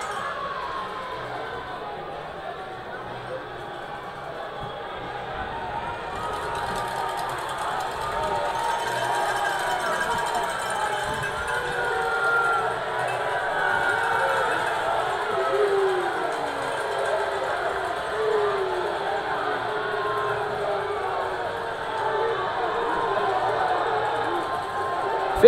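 Arena crowd at a minor-league hockey game between the Columbus River Dragons and Carolina Thunderbirds, a broad sustained roar of cheering and chatter that swells gradually, heard at a distance under a commentator's voice.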